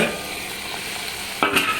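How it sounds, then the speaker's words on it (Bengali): Ivy gourd (kundri) fries in a pan on a home stove, a steady crackling sizzle with a brief sharp stir or clatter near the end, close and alone. "কুদলি ভাজাটা বসিয়ে দিয়েছি"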